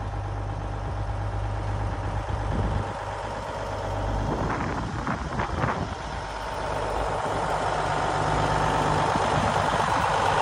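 A very long truck's large engine idles in Leduc, Alberta, with a steady low rumble and exhaust drone, a brief rise in pitch in the middle, no talking.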